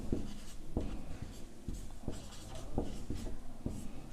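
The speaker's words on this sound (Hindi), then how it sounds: "तो हम लोग लिखेंगे" Pen or pencil scratching on paper while working through a Class 9 maths problem on cube sides, a steady run of short writing strokes with sharp taps, close and fairly quiet, no talk.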